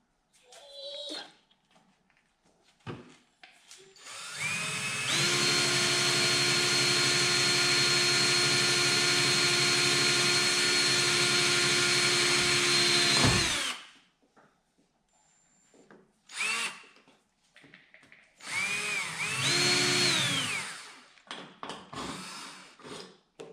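A power drill drives sheet metal screws into a camper van body, one long steady whine of about eight seconds followed by shorter bursts of drilling, with brief talk in between.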